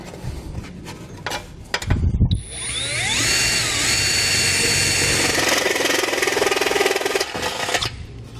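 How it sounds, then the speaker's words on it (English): A 1-inch hole saw cuts through a vehicle's heat shield during a Curt trailer hitch receiver install on a 2019 vehicle, giving a loud, steady high-pitched grinding whine for about five seconds after a brief clatter. "I'm going to use a 1-inch hole saw to make that cut"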